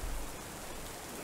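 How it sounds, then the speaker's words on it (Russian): Rain in the video game Lunacy: Saint Rhodes falls as a soft, constant hiss, quiet and unbroken throughout, with a brief low thump at the start. "И здесь гром, молния и дождь."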